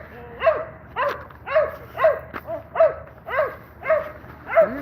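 A reactive dog barks repeatedly at another dog in a park, a steady run of about eight sharp, fairly close barks spaced roughly half a second apart.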